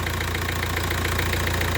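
Volkswagen Touareg engine running steadily at idle with a continuous, even mechanical drone and faint ticking, close and loud throughout.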